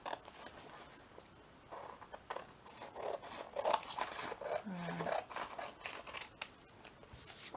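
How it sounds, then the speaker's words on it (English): Quiet, close snipping and rustling as scissors cut through material in a few short bursts while making small notebooks, with soft handling noises between. "Just get my scissors and cut it down."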